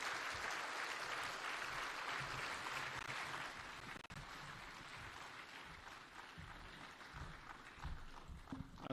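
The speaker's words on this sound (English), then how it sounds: "give a mighty, mighty clap to His Excellency the President" A standing audience at a Nairobi-area laboratory opening applauds the President, sustained crowd clapping that is fairly distant and steady, with a brief knock midway and no speech.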